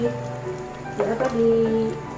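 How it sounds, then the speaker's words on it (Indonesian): Water poured in a steady splashing stream over a Cattleya orchid as it is rinsed, a close wet patter that swells midway with a brief clatter, over a low steady hum. "Dan ini kita kucurkan aja begini ya pemirsa ya. Nah, kita kucurkan begini ya."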